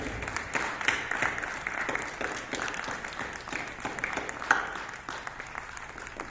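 Applause from the audience at a book launch ceremony in Karachi, a steady wash of many hands clapping that holds for several seconds at moderate loudness, with a faint voice now and then underneath.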